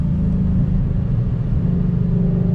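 A 2020 Ford Mustang Shelby GT500 accelerates hard in second gear, its engine a deep, loud, steady rumble heard from inside the car, with no voices over it.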